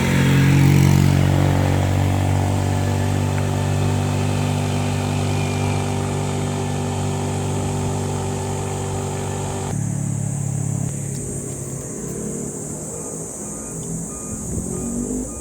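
Yamaha YTX motorcycle cruising along the Marilaque Highway, a steady mid-pitched engine hum with harmonic drone, slight rev change early on and a shift to lower, rougher tone near the end, no talking.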